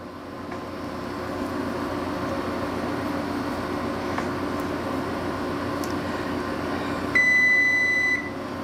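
A kitchen oven preheated to 400 degrees gives a steady electronic beep near the end, a single sustained tone lasting about a second over low background hum.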